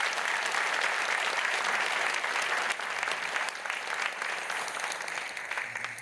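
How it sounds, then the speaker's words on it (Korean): A church congregation gives warm, sustained applause to the choir and orchestra: a dense wash of clapping that is loud from the start and eases slightly toward the end. "갈릴리 성가대와 오케스트라 여러분 큰 박수로"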